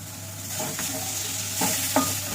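Katla fish frying in a pan, a steady sizzle with a few brief stirring scrapes, close and continuous with no voices.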